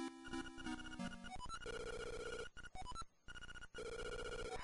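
Chiptune telephone ring from a phone booth in the Game Boy Color game Zelda: Link's Awakening DX, a loud repeating electronic trill over bright synthesized game music, briefly dropping out twice before resuming, with no talking.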